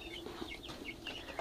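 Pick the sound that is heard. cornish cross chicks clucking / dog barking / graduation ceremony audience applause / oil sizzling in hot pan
cornish cross chicks clucking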